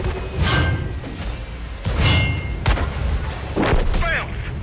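Tank cannon fire in World of Tanks aimed at a VK: several heavy booming shots with whooshing tails, spaced a second or so apart, loud and close, with some game sounds between.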